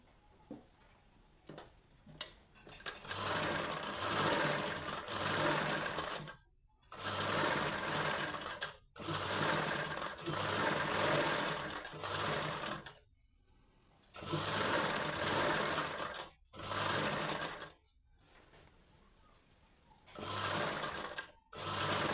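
An electric sewing machine stitches a size 38 katori blouse, running in repeated bursts of rapid mechanical whirring and ticking separated by short silent pauses.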